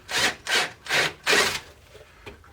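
Four even, rasping strokes of a countersink bit cutting into wooden screw holes for an arcade cabinet build, close and moderately loud, then a couple of faint light taps.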